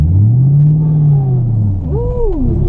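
A C5 Corvette with a muffler-delete straight-pipe exhaust and stock tips rumbles loudly up close, its engine note rising and falling as the revs swell, dip and climb again.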